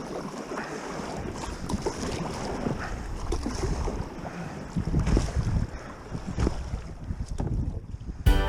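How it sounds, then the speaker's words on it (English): A paddleboard heads out through rough water toward a sailboat, with steady wind buffeting the microphone, sloshing waves and occasional splashes and knocks, and no talking. "I'm about to paddleboard out to the boat."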